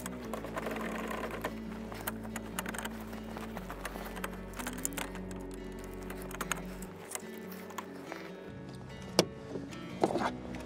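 Ice shack trailer tongue being raised by a drop hitch, a steady mechanical whirring hum that runs for several seconds, changes pitch partway, then stops, followed by a few faint clunks.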